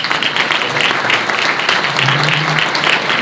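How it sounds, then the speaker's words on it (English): Audience at a community presentation program clapping for the presenters, steady sustained applause from a crowd filling the room at moderate volume. "let's give them another hand, would you please?"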